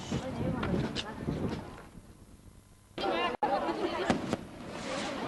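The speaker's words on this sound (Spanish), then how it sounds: "Estos fuegos de artificio contribuyeron también a la fiesta" Fireworks crackle and burst at a night festival procession for San José Artesano in Abarán, sharp loud pops breaking through crowd chatter and a narrating voice.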